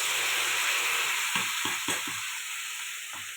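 Cumin and dried chili paste sautéing in hot oil for a bhetki fish curry with potato and taro: a steady, close sizzle with several sharp spatula scrapes and stirs near the middle and one near the end.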